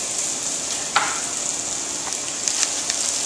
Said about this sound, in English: you should hear it sizzle like so